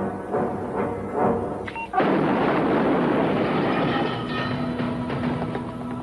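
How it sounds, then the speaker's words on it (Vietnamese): A sudden loud boom hits partway through, followed by a long rumbling roar that fills the space after a quieter stretch of distant bangs. "Có tiếng nổ."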